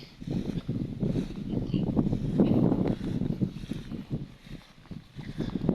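Strong wind roars steadily across an open rice field, gusting and rustling the rice plants continuously with no voices.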